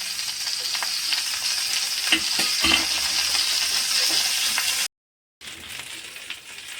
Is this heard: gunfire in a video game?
no